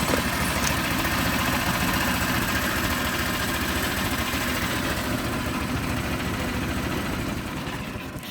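A No Limit Cycle trike engine runs at a steady idle, a continuous low, vibrating rumble that holds level and eases off slightly at the very end, with no talking over it.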